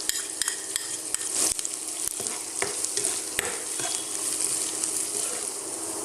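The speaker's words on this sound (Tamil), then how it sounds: "பச்சை மிளகாய் வெங்காயம் நல்லா வதங்கி வரட்டும்." Onions and green chillies sautéing in a pan for an elephant yam mash, a steady close sizzle broken by repeated sharp scrapes and clicks of stirring, with no one speaking.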